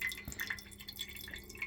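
Water drips from a camper van's tap in scattered drops, faint and close, with a low background hum.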